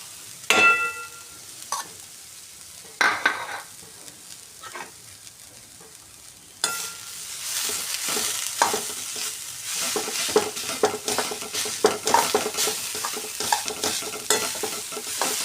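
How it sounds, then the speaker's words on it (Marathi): Grated fresh coconut roasting in a pan, a few isolated scrapes and clinks of a spatula at first, then a louder continuous dry sizzle with frequent stirring scrapes, close and with no talking. "ओला नारळ जो खोवलेला आहे तो भाजून घेऊया।"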